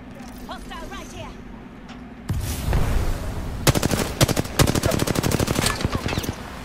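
Gunfire erupts in the Apex Legends battle royale game after a quieter stretch, with one sharp crack followed by rapid bursts of loud, close shots in quick succession and a voice speaking over the start.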